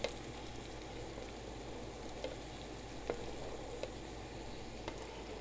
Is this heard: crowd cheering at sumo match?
no